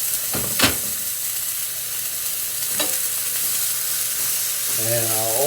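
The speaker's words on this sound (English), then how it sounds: "Nice sizzling." Keto barbacoa meat sizzles loudly in a hot pan, a constant frying hiss with a few sharp crackles and stirring scrapes, ending in a short rising tonal squeak.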